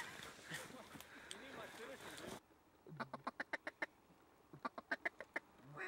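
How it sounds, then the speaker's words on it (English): A duck quacks in rapid, evenly spaced series of loud, close calls, two runs of quacks outdoors following a stretch of dense background noise. "Duck walking off."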